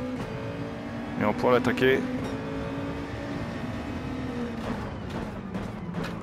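A race car engine in Gran Turismo 7, heard through a PSVR2 setup, drones steadily in the background with a few rising revs. Someone talks over it for much of the time.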